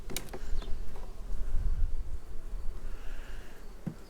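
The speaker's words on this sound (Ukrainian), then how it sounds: "От, бджоли працюють." Steady buzzing of many honey bees at the hive, a dense continuous drone with occasional louder passes of individual insects close by, outdoors.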